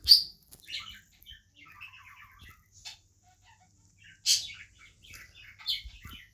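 Bird in the horror video game Granny, giving a few scattered, moderately loud chirps and short trilling calls separated by quiet gaps.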